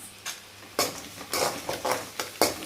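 Turmeric powder being mixed into crumbled idli for upma, a spoon scraping and clinking against the pan in several distinct close strokes with brief pauses between them, no voices.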